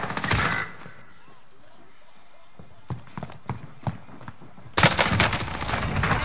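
Call of Duty Vanguard Warzone on Caldera: an opening burst of gunfire, a stretch of scattered single shots and footsteps, then a loud sustained volley of close automatic fire at the end, with voices talking.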